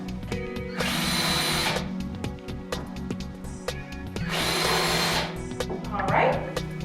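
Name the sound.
drill making pilot holes for furniture caster screws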